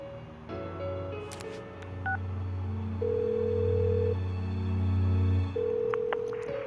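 A series of electronic keypad tones beep in quick succession, followed by steady dial-style tones over a low background hum, with no talking; phone dialing in the video game Persona 4 Golden.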